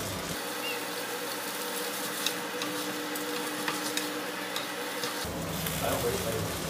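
Jiangxi rice noodles tossed in a pan, a quiet hiss of frying with light scraping and occasional ticks from the utensil, steady and somewhat distant, with a low hum underneath.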